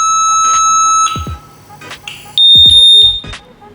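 A BW gas detector alarm shrieks at 108 dB in loud, piercing electronic beeping tones, sounding in two strong bursts separated by a short break, close and alone.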